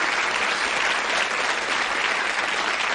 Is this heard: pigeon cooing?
no